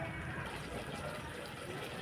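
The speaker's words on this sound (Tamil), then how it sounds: "இதில் இருக்கிற தண்ணியை அப்படியே வலிச்சு ஊற்றிக்கலாம்." Water is poured into a pressure cooker for mutton curry (kulambu). It makes a steady, continuous gushing splash that runs unbroken for the whole stretch, with no one talking.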